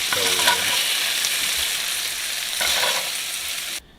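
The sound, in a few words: meat frying on medium-high heat for lettuce wraps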